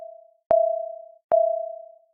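Two synthesized sine-wave bell tones, made in FL Studio 20, each a clean pure pitch with a soft attack that slowly fades, played alone with a short gap between.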